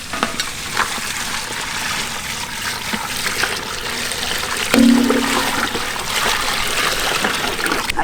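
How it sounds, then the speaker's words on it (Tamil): Water from boiling the meat is poured into a pot of simmering beef tail soup in a village kitchen, a steady rushing splash over sizzling and bubbling. "கறி அவிச்ச தண்ணியா அப்படியே சேர்த்து வேண்டிய கறியில்"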